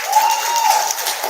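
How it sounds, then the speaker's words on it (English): Conference audience at a small business summit breaking into loud, dense applause, a continuous wash of many hands close by, with a steady faint tone running underneath. "Let's give them a big round of applause."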